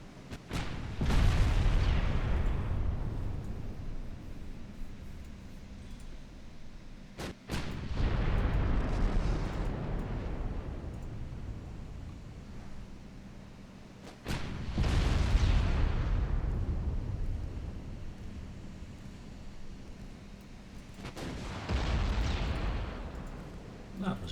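Naval guns firing in the Ultimate Admiral Dreadnoughts video game, four heavy booming salvos spaced several seconds apart, each with a long rumbling decay, with someone talking between them.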